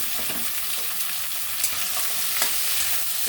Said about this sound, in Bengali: তো ভেজে নিচ্ছি ওই চিংড়ি মাছের মধ্যে রসুন কুচু দেওয়া আছে